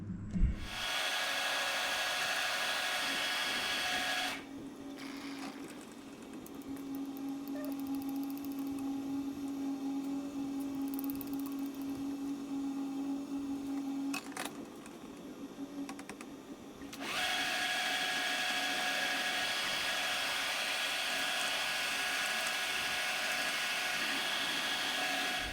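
Power drilling on a lathe spider, with a continuous whirring motor that dips and changes pitch mid-way as the bit works through holes for 6mm set screws, then returns to a steady higher whine.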